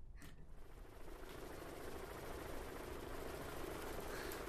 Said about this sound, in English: We can get a helicopter, though.